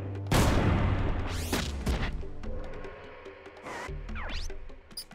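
Heavy gunfire aimed at an enemy mech in the video game Front Mission 3, loud booming bursts and rattling shots with whooshing sweeps between them, close and dense, with no talking.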